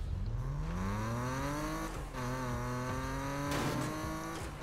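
BMW M3 E46 Razer in Need for Speed Payback, revving up through rising gear sweeps with a shift near the middle, a loud close engine whine climbing again toward the end.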